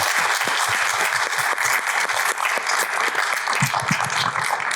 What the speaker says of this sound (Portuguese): Salva de palmas para a Miriam,